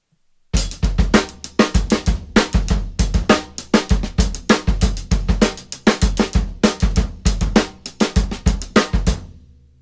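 Drum kit playing a three-note grouping pattern across a 7/8 meter, with sharp repeated hits in an uneven, cycling rhythm, close and loud with no talking.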